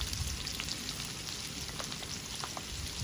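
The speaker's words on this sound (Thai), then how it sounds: "ผมก็ เอากระเทียมใส่เข้าไปเลยนะครับ" Crushed garlic sizzling in hot oil in a frying pan while cooking noodles with gravy, a steady close crackle without pause and scattered small pops.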